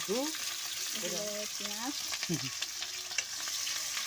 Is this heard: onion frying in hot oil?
yes